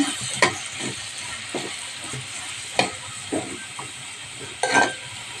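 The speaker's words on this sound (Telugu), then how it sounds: "నూనెలో గోల్డెన్ కలర్లోకి వచ్చేదాకా అయితే వేపుకోవాలి ఫ్రెండ్స్" Onions frying in oil for a dried prawn curry are stirred with a utensil, producing a steady sizzle punctuated by several sharp scraping strokes against the pan, close and moderately loud with no talking.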